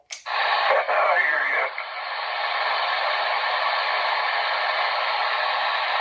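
CB radio receiving a DX call, a loud hissing band of static that follows a brief click and a short warbling tone, then holds steady and unbroken for several seconds.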